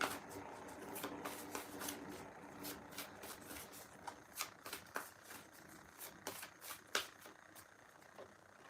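Playing cards are shuffled repeatedly up close, crisp riffles and soft slaps coming in irregular bursts.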